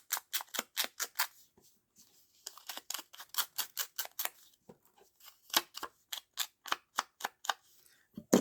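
Scissors snip along the edge of a paper piece in quick bursts of crisp, close clicks, clustered in runs with short pauses between, and no voices heard.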